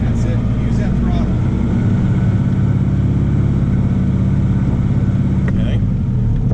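An engine runs under throttle while a newly installed transmission is tested. It gives a steady, loud, close droning hum that holds without a break, with voices faintly over it.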